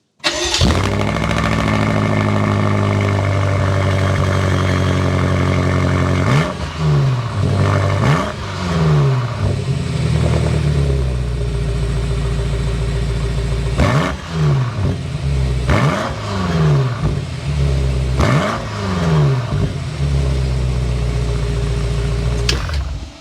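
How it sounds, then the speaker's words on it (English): A 2023 BMW M8 Competition Gran Coupe with a 4.4-liter twin-turbo V8 fires up with a loud starter whir and roar, then settles into a steady idle broken by several sharp throttle blips that rise and fall, heard close and alone. "start up, so you can hear that exhaust note."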